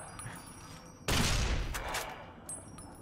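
Gunfire from the video game Fallout New Vegas: a sudden loud blast bursts in about a second in and rumbles on, followed by a fainter second report near the end.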